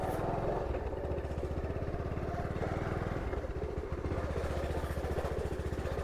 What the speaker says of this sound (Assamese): এতিয়া চলা তেনেহ'লে বাইকটো ষ্টাৰ্ট কৰি লওক